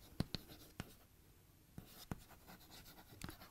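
A pen scratches across paper in short, irregular strokes with a few sharper taps, close and fairly faint, with no talking.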